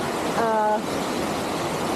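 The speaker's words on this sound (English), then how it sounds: "don't know if you can hear me right now because of the sound of the water" Avalanche Brook waterfall on a hiking trail pours with a steady, broadband rush that fills the whole clip, while a voice speaks briefly and faintly beneath the water noise.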